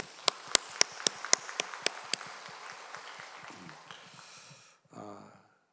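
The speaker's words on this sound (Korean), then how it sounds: "우리 모두에게 박수해 주시기 바랍니다" A church congregation claps during a service: about nine sharp, evenly spaced claps at the start, then faint scattered noise that fades out, with a short voice-like sound near the end.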